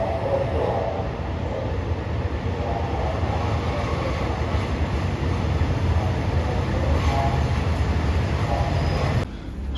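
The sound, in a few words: train travelling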